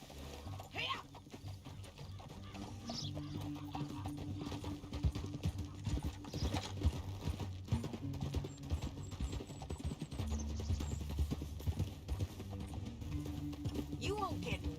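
Horse hooves clip-clop at a steady trotting rhythm in the western video game Red Dead Redemption 2, fairly quiet beneath speech and game sounds across the whole stretch.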